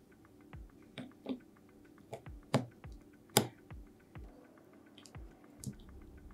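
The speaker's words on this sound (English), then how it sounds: "While you're watching me put the keycaps on" Keycaps are pressed onto a Gamakay K87 mechanical keyboard, giving a string of sharp, irregular plastic clicks and soft snaps, roughly a dozen over several seconds, close and fairly quiet.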